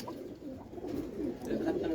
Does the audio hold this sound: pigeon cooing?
yes